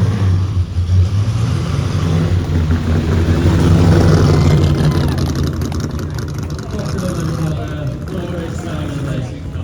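A sports car engine rumbles and revs nearby, a throaty drone swelling and easing, with voices talking faintly over it.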